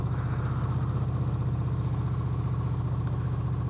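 A 2015 Honda VFR 800 idles at low revs with a warm engine, its deep, even putter carrying a rapid repetitive clatter like a ticking tac-tac, close up and steady throughout.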